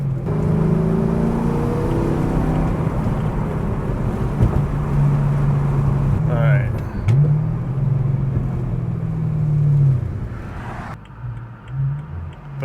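A BMW E9X M3 engine drones low with a rumbling aftermarket exhaust, rising and falling in pitch through several revs and shifts, loud and close.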